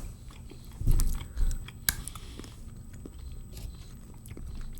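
Someone bites into crunchy 75% dark chocolate, giving a few close, sharp snaps and crunches with a louder crack near the middle, followed by quieter chewing. The surroundings are otherwise quiet.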